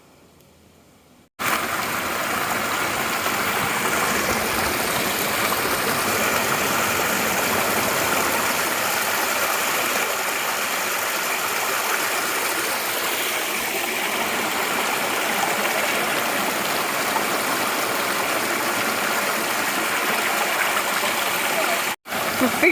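A mountain stream along the Appalachian Trail rushes steadily and loudly for about twenty seconds, a dense continuous wash of flowing water close by, with no talk over it.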